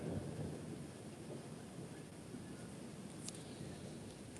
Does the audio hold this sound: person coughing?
no